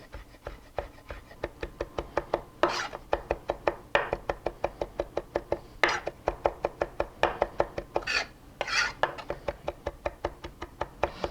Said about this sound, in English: Then with a chef knife, chop those herbs finely.